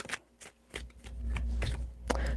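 Tarot cards are shuffled by hand in a quiet room, with soft papery riffles and taps in short bursts followed by a steadier low rustle.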